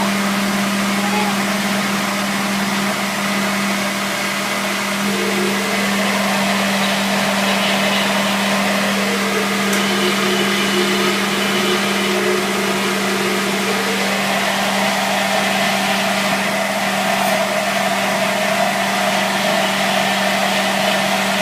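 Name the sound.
Vitamix blender blending zucchini alfredo sauce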